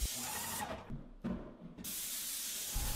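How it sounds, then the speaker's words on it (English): An airless paint sprayer blasts latex primer onto attic walls and ceiling in a loud, steady hiss, broken by two brief pauses before spraying resumes. "For the primer all along the ceiling and the walls, I simply sprayed it."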